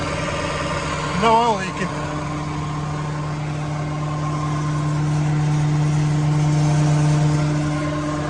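A Deutz-Fahr tractor engine with a Bomford flail hedge cutter attached cranks over and starts early on, then settles into a steady, loud diesel idle that runs to the end, with someone talking over it.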